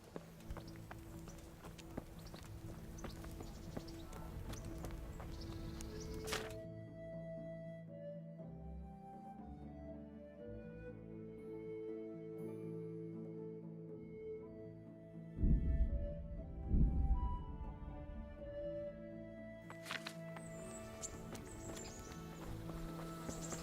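Horse hooves clip-clopping in the medieval game Kingdom Come Deliverance, faint and brief under sustained orchestral music, with a short burst of louder hoofbeats partway through.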